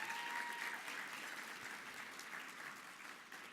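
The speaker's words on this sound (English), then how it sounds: "let's please give her a big round of applause" An audience at an awards night gives a round of applause for a guest, an even wash of clapping heard from a distance that fades slightly over a few seconds.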